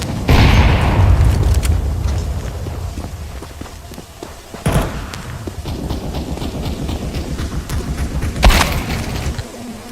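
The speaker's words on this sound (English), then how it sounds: "I'm throwing a grenade" A grenade explodes in a video game, two deep, booming blasts standing out against a steady backdrop of game rumble and movement noise, one near the middle and a sharper one near the end.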